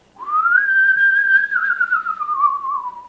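A single clear, high whistled note rises, holds, and slowly slides downward over about three seconds, close and alone.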